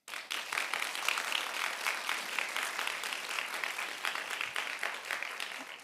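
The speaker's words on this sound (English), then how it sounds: "please join me in giving your parents a warm round of applause" Steady applause from a large audience at a high school graduation ceremony, a continuous wash of many hands clapping that lasts throughout and holds even in loudness, heard from a moderate distance.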